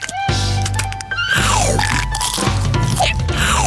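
Someone bites into and chews a crunchy cookie during a playful food challenge, with loud, close crunching broken by short pauses and some vocal sounds.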